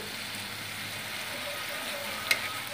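Spice masala paste fries in a pan with an even, moderate sizzling hiss that holds steady, broken by one brief sharp crackle near the end.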